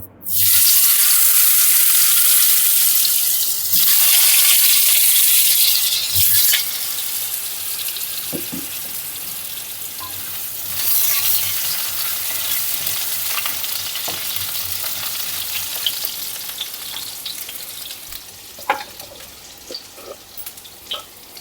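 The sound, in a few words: potatoes and cauliflower frying in pan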